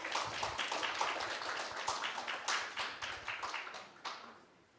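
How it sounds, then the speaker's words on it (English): Audience applause for a panel at the 2021 closing ceremony of the 12th Jeju International Youth Forum: steady, dense clapping from a hall full of people that carries on for several seconds, then thins and fades out at the end. "Please give panel 1 a big round of applause."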